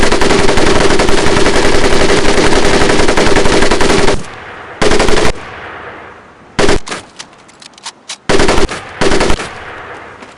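Weapon fired in sustained rapid bursts on a military training range, loud and close: about four seconds of continuous automatic fire, then a series of shorter bursts separated by brief pauses.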